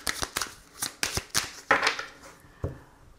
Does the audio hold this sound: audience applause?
no